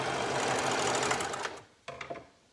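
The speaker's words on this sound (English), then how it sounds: "this one we're doing on the serger, so I'm gonna take my elastic and sew it" A serger sewing the short ends of elastic together, running in a steady, fast mechanical whir that stops partway through, followed by a brief second burst of stitching and a few small clicks.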